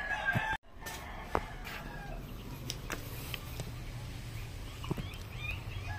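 Chickens in a hatch dome sunning outdoors give faint scattered clucks and calls over a steady low background, with occasional brief knocks.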